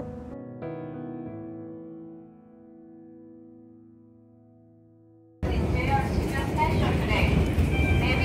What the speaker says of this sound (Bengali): এটা হলো জাপানের ভিতরে সব থেকে ফেমাস ট্রেন ইয়ামানোতে সেন